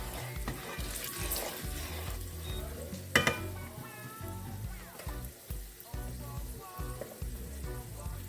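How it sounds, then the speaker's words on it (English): Curry sizzling and frying in a pot while making Jamaican curry goat, a steady crackling hiss with occasional stirring clatter and a brief sharp knock, close up with no talking. "You fry a little bit more of the curry for added flavor."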